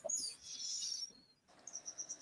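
Small birds chirping outdoors, with bright high tweets in quick bursts at first, then a brief pause and a run of rhythmic repeated chirps, fairly close and clear, no talking.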